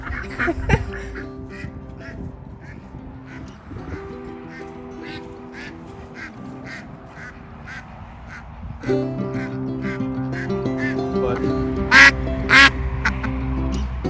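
Ducks quack repeatedly in a spring farmyard, a scattered series of sharp calls that thickens into louder, closer quacking toward the end, over a low constant background.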